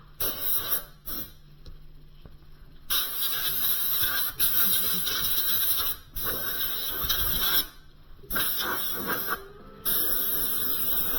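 Compressed air blasts through a Northland power unit during a rebuild, ahead of an evaporator motor change: loud, close hissing in several long bursts separated by short pauses.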